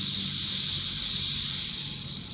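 A steady, dense hiss of fine rattling grains from a turned rain stick, like gentle rain falling continuously at close range, holding a constant level throughout.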